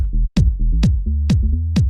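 Four punchy kick drum hits land in a steady beat in a deep minimal house groove, each tied to a thick bass note saturated by a saturator that glues kick and bass and fills the low end between them.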